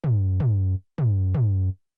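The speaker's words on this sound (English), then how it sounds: "I wanted to use some vinyl distortion." Four strikes of a synthesized mono tom drum run through subtle vinyl distortion, played in two quick pairs, each a punchy attack sliding into a deep buzzy tonal decay, loud with nothing else.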